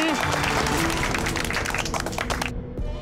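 Audience applause fills a scene from a Hindi TV drama, a dense wash of clapping with voices mixed in that cuts off near the end.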